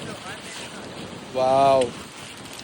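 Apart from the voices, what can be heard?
strong wind at a beach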